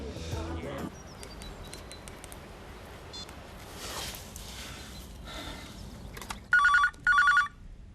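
A home telephone bell rings in two loud, close bursts near the end of a domestic scene, after a stretch of faint room noise and a brief voice at the start.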